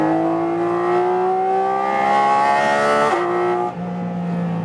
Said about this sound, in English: I love the naturally aspirated engine. It has such a natural output.